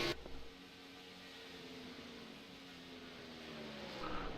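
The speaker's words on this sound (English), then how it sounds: "We hear a lot of coasting." Race car engine from the in-car audio of an iRacing broadcast at Fontana, holding a steady, moderate drone with slowly falling harmonics as the car coasts, then rising slightly near the end.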